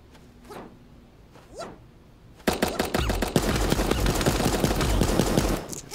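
Rapid bursts of gunfire from a one-shot gun in the cartoon battle royale Super Animal Royale, loud and dense for the last few seconds after a quiet stretch with a few faint chirps.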